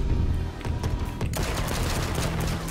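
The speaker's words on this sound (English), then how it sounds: "Oh, I got shot." Gunfire in the H1Z1 Battle Royale video game, a dense burst of rapid shots filling the whole stretch at steady loudness, with a brief dip partway through before the firing resumes.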